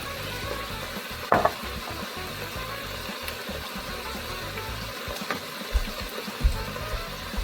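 Seasoned stew with salt sizzles in a pot as it is stirred, giving a steady low frying hiss broken by a few sharp scrapes and clinks of the spoon against the pot.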